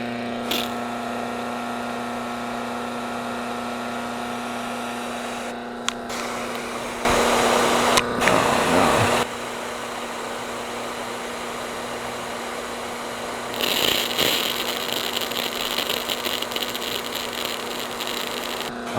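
A Kranzle 1622 pressure washer motor running without building pressure, a steady close electric hum with two louder hissing, rushing surges partway through, with no talk.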